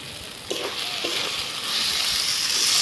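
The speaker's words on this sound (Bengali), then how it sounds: "মশলাটা আমি ভালো করে ভেজে নিয়েছি" Spices sizzle in hot goat fat, with cumin, coriander and chili powder frying for a ghugni. A steady hiss builds slightly louder, broken by a few soft stirring clinks near the start.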